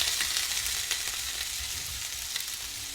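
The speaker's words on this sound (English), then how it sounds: "We're going to flip the steak. Or not flip it, we're going to turn it." Steak sizzling steadily in a hot pan as it is turned, a dense continuous frying hiss with small crackles and pops, close and alone.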